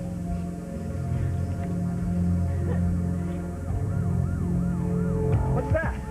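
A wailing siren rises and falls repeatedly in the distance, growing faster toward the end, over a low steady rumble of traffic.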